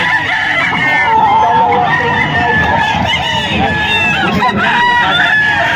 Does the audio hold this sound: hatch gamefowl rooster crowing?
yes